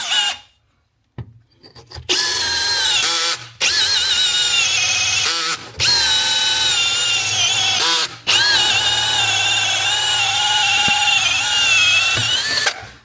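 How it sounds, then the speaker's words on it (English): A diamond drill bit grinds steadily through hard material cutting a hole in several long bursts with brief pauses between, loud and close, high-pitched whine over a low rumble. "Perfect cut hole that the drill bit did, the diamond drill bit."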